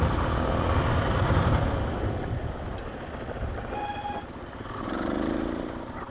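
A motorcycle descending a loose hillside trail while braking, with a rumbling, uneven engine and tire roar close up that swells and eases, plus a brief squeal midway, with no talking.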